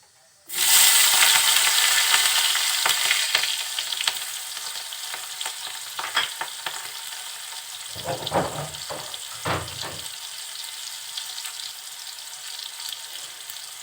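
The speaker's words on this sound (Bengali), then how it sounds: "তেলটা একটু গরম হলে কেটে রাখা ঝাল পেঁয়াজ দিয়ে দিচ্ছি" Loud, steady sizzling of chopped onions and green chillies dropped into hot oil, bursting in suddenly and then settling into a continuous fry with a few stirring clatters.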